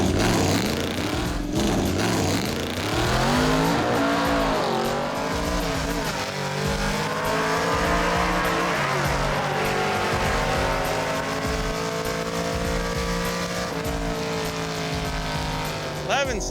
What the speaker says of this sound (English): It just cut off while he was doing the burnout.